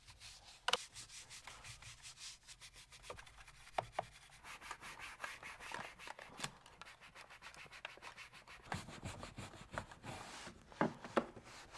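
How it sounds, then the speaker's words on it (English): A very soft bristle brush sweeps over the Alcantara interior of a car, making a steady close rubbing and scratching with quick repeated strokes and no talk. "I'm going to be brushing everything down thoroughly with this very soft bristle brush."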